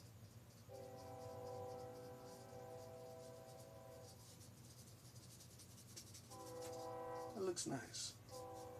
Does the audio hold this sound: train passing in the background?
yes